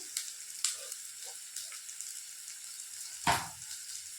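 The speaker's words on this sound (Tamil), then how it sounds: "இப்போ வெங்காயம் நல்லா வதங்கட்டும்" Chopped onions, one large and one small, sautéing in a pan for a three-egg dish, giving a soft, steady sizzle with a single knock of utensil on pan near the end.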